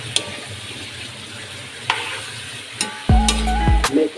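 Menudo stirred in a frying pan, with a sustained sizzle and a short burst of scraping stirring near the end, punctuated by a few brief clinks, no talking.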